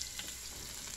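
Garlic sizzling steadily in a hot pan for a home-style Brazilian country chicken stew, a continuous crackling hiss with no pauses and no talking.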